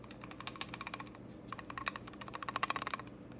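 A Victorinox Venture knife's loose sheath rattles in quick, light plastic clicks, irregular clusters of close taps with no voices.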